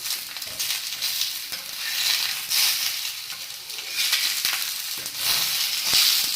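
Raw banana slices sizzle and crackle in hot oil, a steady bright frying hiss swelling and easing with occasional stirring scrapes, close and unbroken.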